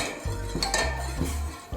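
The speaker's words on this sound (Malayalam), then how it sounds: "പാലൊന്ന് കുറച്ച് ഇളക്കി കൊടുക്കാം കേട്ടോ." A spoon scraping and clinking against a pot while milk is stirred for tomato kulfi, with a few close metallic knocks and scrapes and no talking.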